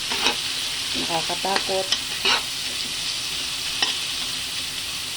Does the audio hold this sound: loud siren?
no